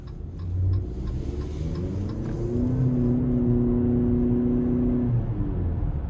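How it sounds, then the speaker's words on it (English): A 2026 Jeep Cherokee Limited Hybrid in sport mode revs up under throttle, a steady rising engine drone that holds loud for a few seconds inside the cabin before easing off. "Now I do want to put it in a sport mode. We're going to give it throttle a couple times, but not going to floor it."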